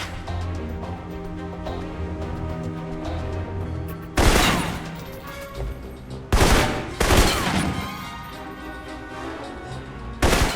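Assault rifle fire in the Alpha Protocol video game: loud sharp bursts of automatic shots break out in several separate volleys over a steady game music bed.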